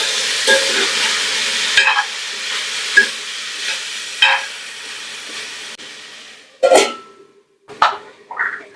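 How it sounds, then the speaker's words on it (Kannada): Raw banana pieces fry with a tempering for palya, a loud sizzling hiss that fades after a few seconds, broken by sharp clatters of a spoon stirring against the pan. "ಈಗ ಒಗ್ಗರಣೆ ಜೊತೆನಲ್ಲಿ ಚೆನ್ನಾಗಿ ಮಿಕ್ಸ್ ಮಾಡಿಕೊಂಡು ಒಂದು 2 ರಿಂದ 3 ನಿಮಿಷ ಫ್ರೈ ಮಾಡ್ಕೊಳ್ಳೋಣ"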